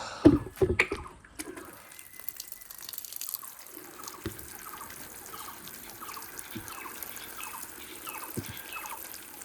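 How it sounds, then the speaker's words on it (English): Water from a bucket splashes and trickles onto a potted plant that has just been set in its pot, starting with a few sharp knocks and then a light, steady dribble running close by. "Now I'll just water this plant which I've just fixed into the pot."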